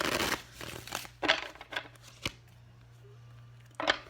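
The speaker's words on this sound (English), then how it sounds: "Alright, 3 more shuffles." Tarot cards shuffled in several quick, close riffling bursts separated by short pauses, with a faint steady hum underneath and no talking.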